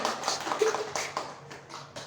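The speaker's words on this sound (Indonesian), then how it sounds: "tepuk tangan." A classroom of children clapping together in a short rhythmic pattern during a micro-teaching lesson, several crisp claps in a row, close and fairly quiet, with no talking.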